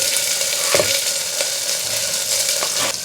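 Carrots and beans sizzle in hot ghee with mustard seeds and fennel, a steady close frying crackle with a few sharper spits and stirring clinks, no voices.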